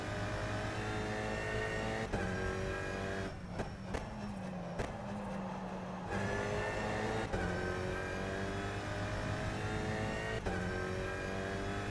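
An Alpine A110 Cup race car in rFactor 2 drives at speed, its engine droning steadily and rising through the revs, with a brief lift around a drifting turn before pulling hard again.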